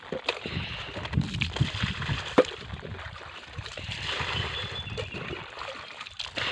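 Water runs and splashes steadily during hand-washing of laundry outdoors, with faint trickles and occasional louder sloshes throughout.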